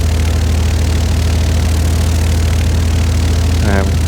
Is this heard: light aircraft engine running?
yes